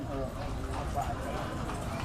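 Horse hooves clip-clopping steadily during a provincial horse race event in Tayabas, Quezon, mixed with a dense crowd and voices talking throughout.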